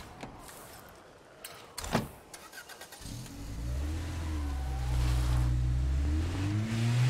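Video-game car engine, quiet clunks and a door-like thump at first, then a loud sustained motor drone with rising and shifting tones as it drives, close and steady, no talking.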